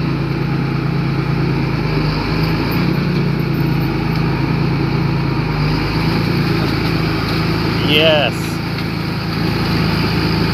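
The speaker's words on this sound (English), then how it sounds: "The tractor made it!" Tractor engine running in a Nebraska cornfield, a steady loud drone throughout with excited voices shouting and talking over it.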